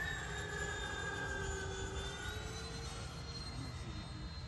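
A Freewing A-10 Thunderbolt II radio-controlled jet with twin 80mm ducted fans flies past, its steady, loud whine and rushing roar holding for several seconds with a gently shifting pitch.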